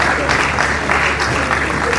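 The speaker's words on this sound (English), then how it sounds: "Please take a rise up for a round of applause." A conference audience at a small-business summit applauds panelists, a dense, steady round of clapping from a crowd filling the whole short moment.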